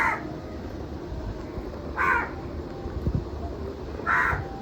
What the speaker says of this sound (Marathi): आता कावळा ओरडतोय.